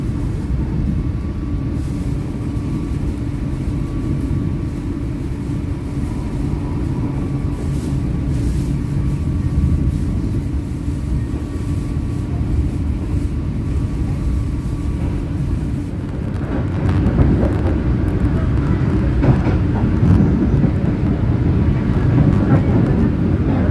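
The Matarmaja economy train prepares to depart Malang station in the morning. A steady, loud low rumble of engine and carriages runs throughout and grows rougher and louder toward the end, with no talk.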